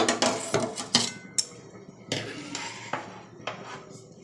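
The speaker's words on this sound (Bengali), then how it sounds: "সেই আমুল দুধটা একটু গুলিয়ে নেব গরম জল দিয়ে" A spoon clinks and scrapes against a bowl while Amul milk powder is mixed with hot water in a home kitchen, giving a few sharp metallic taps and rattles separated by quiet gaps.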